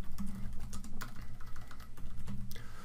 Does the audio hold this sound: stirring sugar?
no